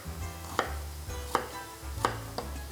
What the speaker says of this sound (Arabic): بنبلش نقص البصل بهذا الشكل